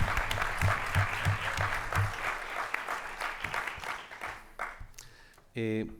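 An audience at a film preview colloquium applauds an actor with steady, rhythmic clapping that thins out toward the end, and a voice begins speaking as the claps die away.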